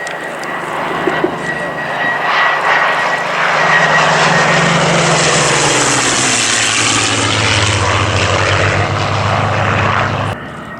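A P-40M Kittyhawk fighter flies past at an Old Warden air show, its piston engine and propeller building into a loud, sustained roar with a falling drone as it passes, then fading away abruptly.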